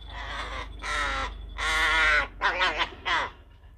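A pet crow kept for free flying caws loudly and close up in a run of five harsh calls, the last few quick and clipped, over a low background hum.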